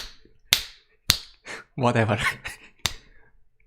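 Several sharp finger snap attempts ring out one by one with pauses between them, loud and close, and someone briefly speaks in the middle.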